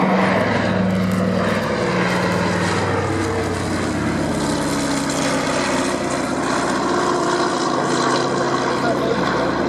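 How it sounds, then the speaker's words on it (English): A Consolidated PBY Catalina flying boat drones past at an air show, its piston propeller engines a loud, steady roar throughout, with a voice speaking over it. "And here she comes now, the consolidated PBY Catalina."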